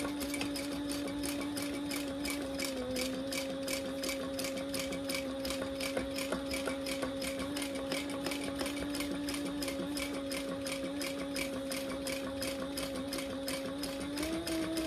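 A sewing machine running slow top stitching on a bag at long stitch length, a steady rapid needle clatter with an even motor hum, close and continuous for the whole stretch.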